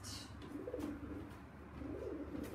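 A pigeon coos softly in a loft, two low rolling calls spaced about a second apart, faint against a quiet background hum.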